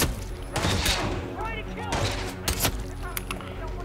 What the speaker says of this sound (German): der wirft den Nade rein! Flashbang!